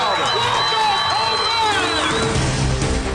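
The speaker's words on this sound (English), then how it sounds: "Listen to this crowd." High school baseball crowd at a Cedartown Bulldogs game roaring and cheering after a deep home run to left field, loud and sustained, with a broadcaster's voice and whistles mixed in.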